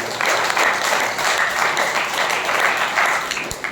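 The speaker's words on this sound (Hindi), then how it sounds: "तो सभी अर्जुन के लिए जोर से तालियां होनी चाहिए।" Seminar attendees at a New Diet System session clap loudly together, a dense, continuous wash of applause from the gathered crowd that stays strong and even before tapering slightly at the end.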